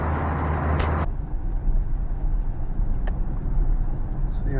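A Chevy fitted with oversized tires drives slowly on a test run, its engine and road rumble steady and fairly loud throughout, with a brief higher whine early and a faint click near the middle.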